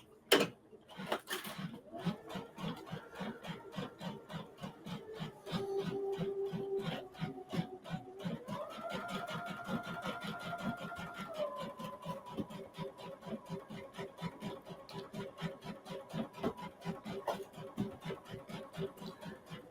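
A sewing machine stitches a jacket sleeve, its rapid needle chatter running steadily for many seconds with a brief pause early on and a shifting motor tone.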